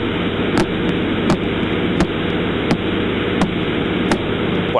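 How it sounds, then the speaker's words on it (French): Audified electromagnetic signal of a pulsar, a steady wash of static-like noise struck by sharp regular clicks roughly every 0.7 seconds, loud and alone. "Et ça, c'est le son d'un des pulsars en question."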